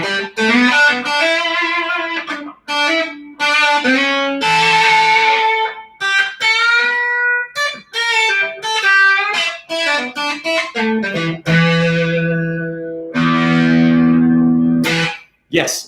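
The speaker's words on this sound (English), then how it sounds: "The fuzz section really shines." A distorted electric guitar plays a run of fuzzy notes and chords, loud and saturated, with brief pauses and sustained ringing tones between phrases.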